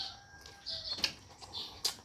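Birds around a house flap briefly and give soft high chirps, quiet and close, with a couple of sharp wingbeat bursts over about two seconds.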